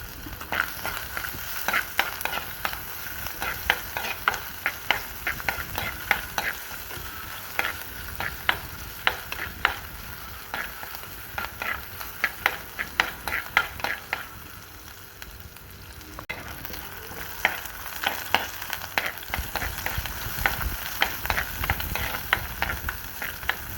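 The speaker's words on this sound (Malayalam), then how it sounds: "ഇത് നന്നായിട്ടൊന്ന് വഴറ്റി കൊടുക്കാം. അതിൻ്റെ പച്ചമണം മാറുന്ന വരെ നന്നായിട്ട് വഴറ്റാം." Onion and ginger sautéed in a pan for Kerala fish curry, a continuous close sizzle with rapid, rhythmic spatula scrapes and taps throughout, briefly pausing near the middle, with no voices.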